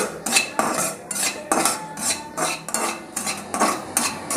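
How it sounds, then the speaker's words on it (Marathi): A metal spoon scrapes and clanks against a kadhai while semolina roasts in ghee, stirred in a steady rhythm of repeated strokes roughly every half second, close and clear with no talking. "त्यामध्ये हे रवा छान असा मस्त खरपूस भाजून घ्यायचा"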